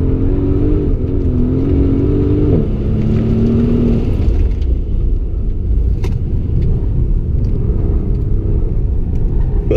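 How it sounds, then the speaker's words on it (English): A Mercedes-AMG S65 S-Class sliding around a figure-eight track, its engine roaring loud and close in a continuous rumble with brief revving pitch changes early on, no talk over it. "that's an S-Class sliding on entry there."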